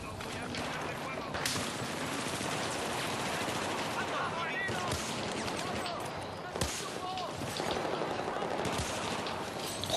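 Sustained Battlefield 4 gunfire crackles through the whole stretch, dense and loud, with bursts layered over a constant battlefield din and occasional sharper cracks, while voices talk over it.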